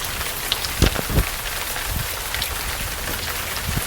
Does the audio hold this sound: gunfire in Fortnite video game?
no